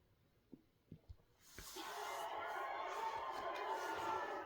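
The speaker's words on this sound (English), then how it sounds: "Listen to this crowd." Crowd watching a total solar eclipse on a played-back recording, a few faint knocks first and then a swelling, sustained roar of cheering voices that stays loud to the end.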